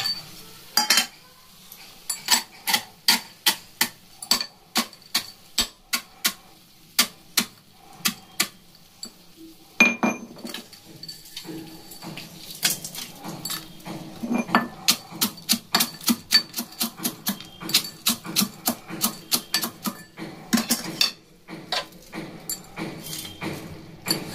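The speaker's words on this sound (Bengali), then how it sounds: "এবার দিয়ে দেবো এই বড়িগুলোকে একটু ভেঙে নেবো।" Dried lentil bori dumplings are broken up for a curry in a home kitchen, making a long run of sharp dry cracks and clicks in irregular rapid bursts with brief pauses, close and fairly loud, with no talking.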